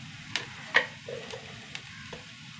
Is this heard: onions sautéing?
yes